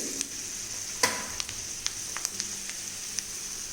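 Chana dal and urad dal fry in hot oil, producing a soft, steady sizzle with scattered sharp pops and crackles, close but fairly quiet and with no talking.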